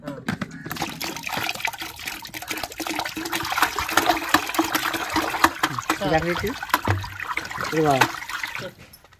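Water pours and splashes into a container of buttermilk with chillies, a running liquid sound with trickles and drips, while a person talks briefly partway through.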